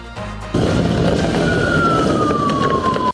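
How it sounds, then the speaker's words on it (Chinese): An ambulance siren wails at a road intersection, its steady tone rising clearly above loud, close traffic and engine noise that swells up abruptly and holds until the sound cuts off. "这时左边传来救护车鸣笛"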